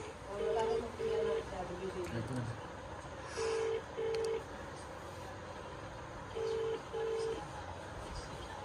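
A phone rings out with paired electronic ringback tones repeating three times at a steady interval, faint and muffled under a low background hum, while people talk intermittently.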